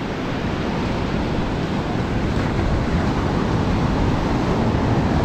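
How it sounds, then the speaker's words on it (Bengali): Sea waves roar on the beach between Cox's Bazar and Teknaf, a loud, steady, broadband wash of surf with wind noise and no talking. "সমুদ্রের গর্জন শুনতে খুবই ভালো লাগে"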